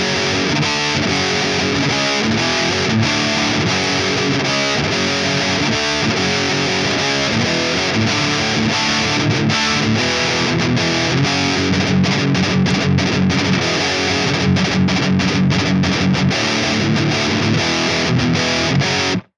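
A loud, heavily distorted electric guitar through an Orange amp clone plugin with Klon-style overdrive plays continuously with thick, saturated high-gain tone, chugging riffs and sustained chords, with no talking.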